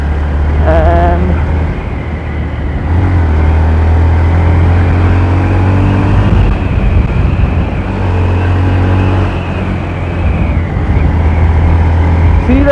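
A Yamaha FZ-X 149cc motorcycle runs with a steady low engine hum and a few revs, while someone talks over it throughout.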